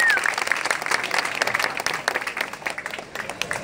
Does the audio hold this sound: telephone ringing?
no